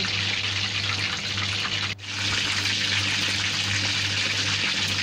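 A whole chicken deep-fries Hong Kong style in hot oil, giving a continuous loud sizzling crackle with a brief dip partway through as the bird is turned, then the steady frying resumes.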